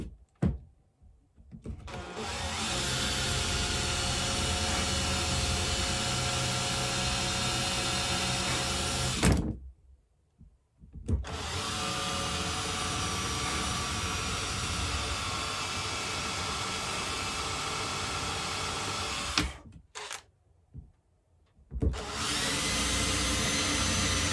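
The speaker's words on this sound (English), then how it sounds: "Guess my drill's a little bent." A slightly bent power drill whirs steadily for long stretches while drilling holes to mount Vipec Evo ski bindings, stopping briefly twice before starting up again, loud and close.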